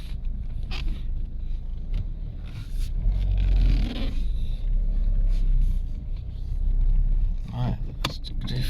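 Car reversing with a freshly replaced flywheel and clutch, a low engine hum rising and easing with scraping and rustling noises in the cabin, while someone talks over it.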